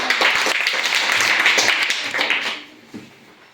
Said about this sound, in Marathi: सगळ्यांनी टाळ्या